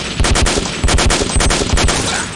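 Rapid automatic gunfire in the video game Day of Defeat crackles in quick, loud, close bursts, the shots coming in fast repeated volleys with brief gaps between them.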